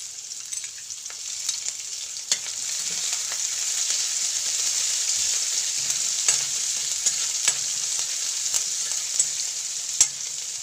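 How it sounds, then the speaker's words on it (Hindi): Finely chopped garlic and green chillies fry in a pan with a steady hissing sizzle and occasional crisp pops and spatters, fairly quiet and steady, no speech. "बारीक कटी हुई हरी मिर्च डाल देंगे।"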